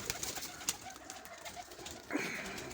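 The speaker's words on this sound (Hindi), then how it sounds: "ये हमारा ना बड़े कबूतर का बच्चा है।" Pigeons at a pigeon keeper's loft give faint, soft coos and calls over a light background hiss, with a brighter, steadier call near the end.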